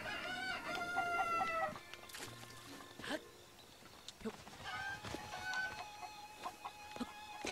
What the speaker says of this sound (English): Come here, Mr. Chicken.